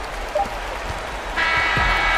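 A home crowd cheering in an NBA basketball video game, the Bulls against the Bucks, a low roar that swells into louder sustained cheering and applause near the end.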